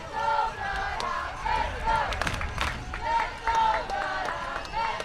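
Spectators at a high school football game between Brownsville St. Joseph and Austin Regents roar and shout in a steady, surging wash of crowd noise, with several swells and a band-like tonal layer running underneath.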